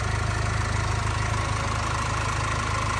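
A 2023 Mercedes-Benz Sprinter's new four-cylinder high-output diesel engine idles steadily with an even, low, throbbing pulse, close and continuous with no other sounds.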